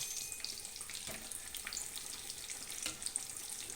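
Vada pav frying in hot oil in a pan, a quiet, constant sizzle with faint scattered crackles and a few soft knocks as the fritters are turned over.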